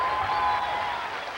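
Brief burst of concert audience applause during a tribute show: a continuous, fairly loud crowd clapping wash with a lingering musical tone beneath it, fading slightly toward the end.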